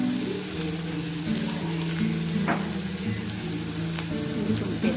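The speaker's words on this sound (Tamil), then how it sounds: "இஞ்சி பூண்டு போட்டு நல்லா ஃப்ரை பண்ணலாம்." Ginger garlic paste frying in a pan for gobi Manchurian, a continuous close sizzle with light stirring scrapes and a few sharp clinks.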